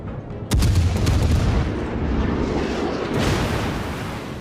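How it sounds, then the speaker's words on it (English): Warship guns firing in the naval combat game World of Warships, with cruisers and destroyers trading shots: a heavy, booming blast hits after a brief lull, then rolling rumble sustains, with a second sharp report near the end. "And we already have a ship firing at us."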